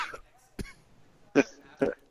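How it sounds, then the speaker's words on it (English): A few short coughing bursts sound close up, spaced irregularly, with brief vocal noise at the start. "because you're coughing and choking on things"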